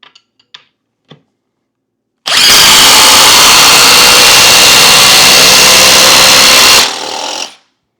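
A cordless impact driver, Ridgid or Milwaukee M18, drives an 8-inch Timberlok screw in one loud, continuous burst of rapid impacting for about four and a half seconds, then winds down and stops. Faint taps come just before it starts.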